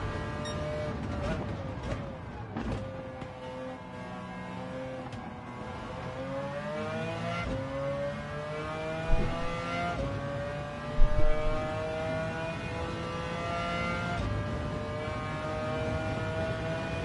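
Race car engines of a Toyota and a Nissan GTR in the video game Gran Turismo 7 drone and rise steadily through gear changes, a continuous whining tone that climbs and settles, with brief louder bumps midway.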